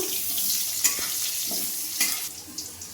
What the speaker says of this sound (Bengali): মাছ ভাজার তেলের মধ্যেই আমি আলুগুলো ভেজে নেব।